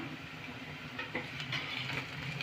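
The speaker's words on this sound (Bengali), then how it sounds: "দু মিনিটের মতন নেড়ে নেব একটু" Onion fried red with crushed ginger, garlic and a green chilli being stirred in a pan: a steady close sizzle with soft scraping strokes of the spoon, no talk over it.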